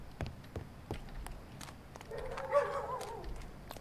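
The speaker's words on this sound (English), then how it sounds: "There's a lot of dogs in this neighborhood." Dogs bark in a neighborhood in the video game Barn Finders: a few faint, distant yips and barks scattered through quiet ambience, with a brief whining tone near the end.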